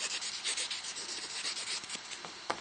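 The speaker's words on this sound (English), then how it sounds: "here's one of the buffing blocks that we just got in, this or sandpaper or whatever, and just sort of going all the way around it." A soft buffing block sands steadily all the way around a surface, a close, continuous scratchy rubbing with a slight back-and-forth rhythm and no talking.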